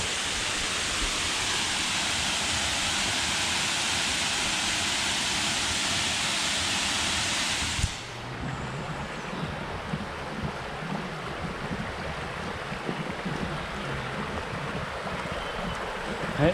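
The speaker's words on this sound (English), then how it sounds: "Pretty impressive waterfall." Falling Foss, a woodland waterfall, roars as a loud steady rush of falling water that abruptly drops to a quieter, more distant wash about halfway through.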